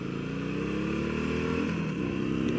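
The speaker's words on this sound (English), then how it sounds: "even the factory exhausts sound nice" A Harley-Davidson Sportster 883 engine rumbles steadily up close through its factory exhaust, a deep continuous drone with no talking.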